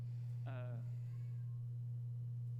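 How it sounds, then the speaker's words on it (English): A single short, faint meow, as of a cat, rises once over a steady low electrical hum during a live reaction stream of a game awards show. "I hear a cat."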